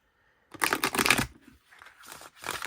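A glossy Angelic Activations oracle card deck being shuffled by hand: a dense, crisp riffling burst of sticky slapping cards, then quieter shuffling and a second short burst, close and alone.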